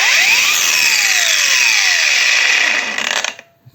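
A DRIVAK AG001 cordless angle grinder whines at its third speed setting, a loud, high, steady motor tone with sliding pitch at startup, then spinning down and cutting off near the end.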